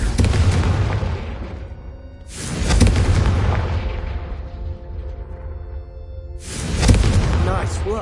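Confringo spells strike candelabras in the video game Hogwarts Legacy, three loud booming blasts with long rumbling decays, evenly spaced across the span.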